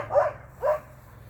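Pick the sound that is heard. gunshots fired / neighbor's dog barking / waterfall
neighbor's dog barking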